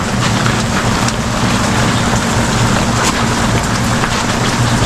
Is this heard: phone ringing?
no